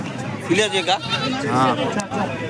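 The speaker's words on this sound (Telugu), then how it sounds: "చిన్న మేక పిల్లలు అయితే ఉన్నాయి" Goats bleat with short, wavering cries amid steady human chatter at a goat market, the bleats rising above the talk a few times.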